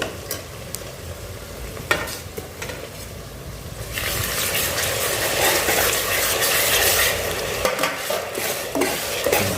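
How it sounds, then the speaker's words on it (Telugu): Ginger garlic paste hits a hot pan for mutton dum biryani and sizzles loudly, with stirring scrapes and a fierce burst of frying that swells midway and stays close and continuous. "ఇదిగోండి అందులోనే అల్లం వెల్లుల్లి పేస్ట్ వేస్తున్నాను."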